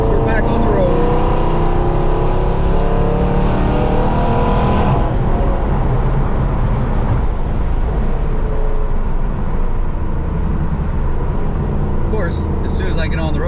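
A cammed 5.7 R/T rolls along the road, its engine droning steadily with a low rumble and shifting pitch throughout, loud and close, with a voice talking over parts of it.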